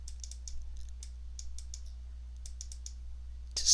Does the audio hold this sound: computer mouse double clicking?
yes